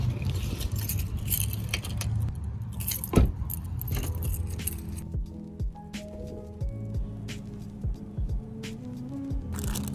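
A bunch of keys jangles and clinks close by in a series of bright metallic rattles and scrapes, with a faint hum of passing cars in the background and no talking.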